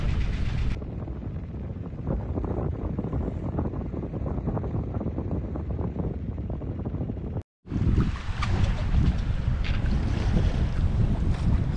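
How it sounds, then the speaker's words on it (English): A sailboat's engine drones steadily over rushing water and wind buffeting the microphone during a regatta, with a brief dropout midway before the rumble resumes. "keep the engine running in case we needed it"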